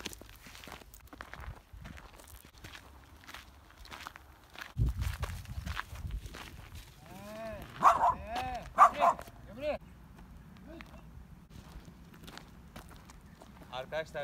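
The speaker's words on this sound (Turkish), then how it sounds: "Başka köpekler var. Evet, köpekler buradaydı." Dogs out on a morning walk give a few short barks and yips around the middle, fairly close, over footsteps and scuffing on the ground.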